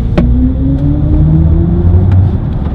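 Synthetic drive sound of a BMW iX3 electric car, composed by Hans Zimmer, as a loud, steady rising hum with layered tones sliding upward, alone with no talk.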